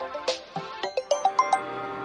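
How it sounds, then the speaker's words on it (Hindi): A phone ringtone in a scene from the Hindi-dubbed film Manjummel Boys sounds as a quick run of bright, rising electronic chime notes, about eight short tones in a row, clear and close. "बीच बीच में ये फोन आते रहते हैं।"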